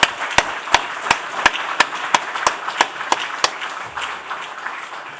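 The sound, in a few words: church congregation applauding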